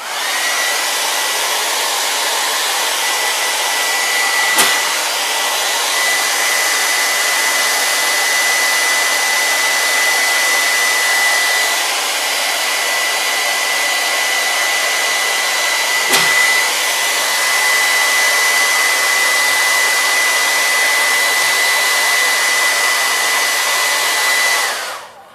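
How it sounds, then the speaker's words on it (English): A hair dryer blows steadily and loud for about 25 seconds to dry contact cement, a continuous airy whine with a thin tone, briefly interrupted twice, then cutting off at the end. "we're going to take a hair dryer, and dry."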